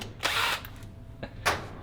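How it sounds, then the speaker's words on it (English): A cordless battery drill, used while working on a 1963 Chevrolet Impala SS, whirs in two short bursts, the first longer and the second briefer, close by and fairly loud with no talk. "and then I'll take a battery drill"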